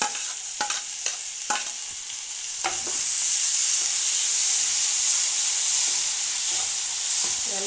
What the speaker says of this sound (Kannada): ಎರಡನ್ನೂ ಫ್ರೈ ಮಾಡ್ಕೊಳ್ಳೋಣ.